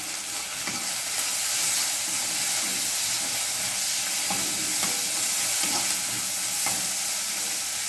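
Tomato frying in oil for mutton chukka, a constant loud sizzle and hiss with small popping crackles and no voices.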